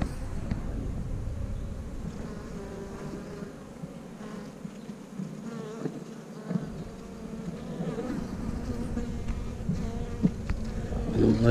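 A dense, steady buzzing of many bees clustered around a queen fills the air, close and continuous, swelling slightly toward the end.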